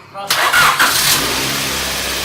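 A car engine cranks briefly and catches with a loud roar, then settles into a steady, even idle.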